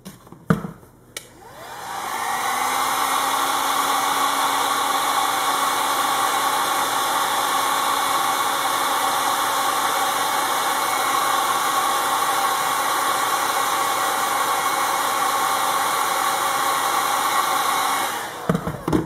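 A heat gun blows steadily on the end of a kydex sheet, a loud, even hot-air roar that starts after a brief click and runs unbroken for about sixteen seconds before cutting off.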